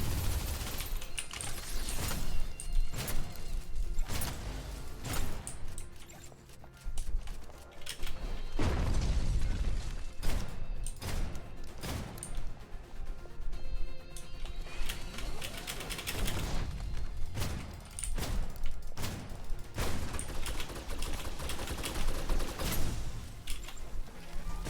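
Rapid bursts of suppressive gunfire in the Snowbreak video game, loud and dense, cracking in repeated clusters with heavy low booms and mechanical clatter, running nearly continuously with short gaps.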